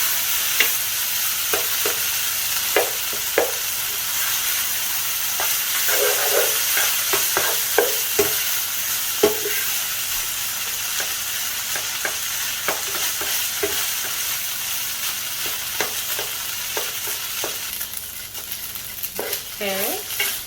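Fried rice with soy sauce sizzles steadily in a hot pan while a utensil scrapes and stirs it in frequent short strokes, with no talking.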